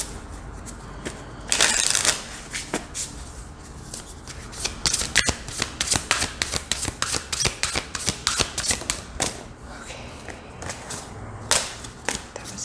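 A deck of tarot cards is shuffled over and over, the cards riffling and slapping in quick bursts of crisp, close papery flutter with brief pauses between runs.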